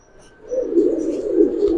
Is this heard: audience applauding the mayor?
no